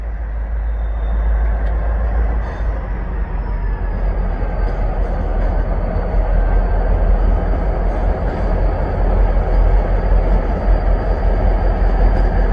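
BNSF intermodal container freight train rolling past near Cicero, a loud, steady rumble of wheels and cars with faint squeals, continuous throughout.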